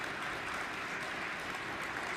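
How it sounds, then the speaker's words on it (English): A crowd applauds at a high school wrestling triangular meet, a steady, even wash of clapping throughout, moderately distant and without speech. "see a round of applause there from the Mustang faithful"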